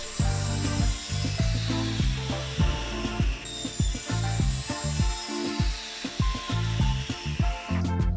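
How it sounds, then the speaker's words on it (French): A miter saw cuts through MDF pieces in a series of short bursts, a buzzing whine rising and dropping as each cut starts and stops, loud and close, with brief pauses between passes. "le plus pratique c'est la scie à onglet."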